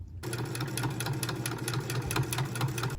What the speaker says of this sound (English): I'm going to start just before the opening and sew with about a 1/8 inch seam allowance around the entire outside of the fabric